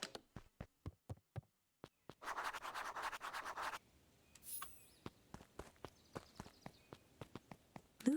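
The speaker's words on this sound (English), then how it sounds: "Luca heard a group of footsteps approaching." Footsteps approaching in the video game Beacon Pines: a series of light, sharp steps in an irregular rhythm, interrupted by a brief rustling burst, with the steps continuing close and clear.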